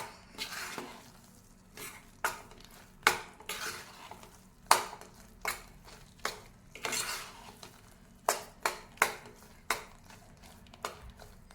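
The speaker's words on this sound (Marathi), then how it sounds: "आता हे गव्हाचं पीठ आपल्याला तुपामध्ये खूप परतून घ्यायचं आहे" Wheat flour is roasted in ghee and stirred with a utensil, making a steady series of sharp scraping knocks against the pan over a faint sizzle. The strokes repeat roughly every second and there are no voices.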